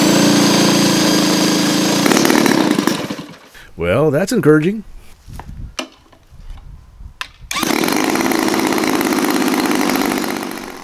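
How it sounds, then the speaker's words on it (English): Savage Bobber RC model plane engine, now fitted with a 19-inch prop, running loud and steady for several seconds, cutting out while someone speaks briefly, then starting up again strongly. "Next was seeing if the engine suffered any ailments."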